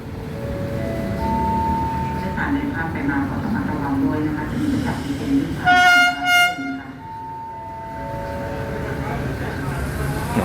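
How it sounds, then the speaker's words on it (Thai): Alsthom diesel locomotive with a Caterpillar engine passing platform 1 at a Thonburi station, its horn giving a short, loud tonal blast over a steady engine rumble, with someone talking throughout. "รถจากดีเซลที่ทำขบวน 255 เนี่ยก็กำลังจะวิ่งผ่านในชานชลาที่ 1"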